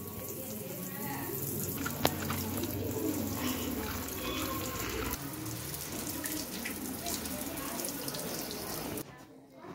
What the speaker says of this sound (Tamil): என் கார்டனுக்கு வந்து இப்போ தண்ணி இப்போ பாய்ச்சிக்கிட்டு இருக்கேன்